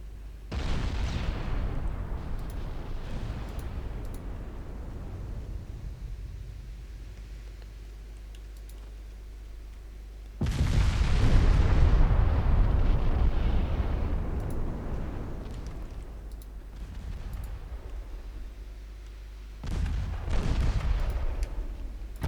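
Cruiser main guns firing in the naval video game Ultimate Admiral Dreadnoughts, three deep booming blasts spaced several seconds apart, each rolling off into a long rumbling decay, with faint keyboard clicks between.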